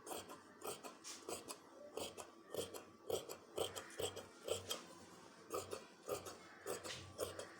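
Scissors cut through folded lining fabric for a kameez on a tailoring table, a steady run of crisp rasping snips repeating about twice a second, close and quiet.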